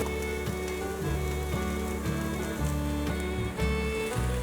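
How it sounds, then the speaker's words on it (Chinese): Eggplant stir-fried with shiitake mushrooms and soy mince in a wok gives a steady crackling sizzle that runs the whole time beneath a rhythmic musical backing. "快速的翻炒"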